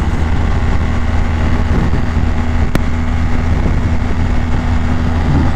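A BMW R1200GSA motorcycle engine runs at a steady cruise on an open road, a loud constant droning hum mixed with heavy wind rush, with one sharp click partway through.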